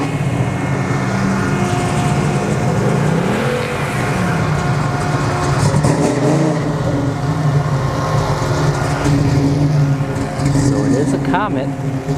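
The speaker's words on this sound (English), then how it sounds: "It sounds like it's got a blower." A supercharged drag racing car accelerates down the strip at a test-and-tune dragstrip, a loud roaring engine sweeping up in pitch, heard over crowd and track background noise.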